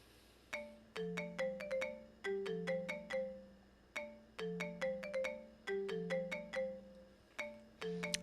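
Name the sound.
phone ringtone in video game 9 R.I.P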